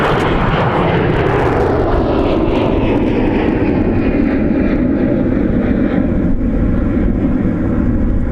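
A Delta jet airliner departing from Minneapolis–St. Paul airport toward Las Vegas gives a loud, sustained engine roar that slowly recedes and drops in pitch, with broad rumbling filling the whole stretch and no voices.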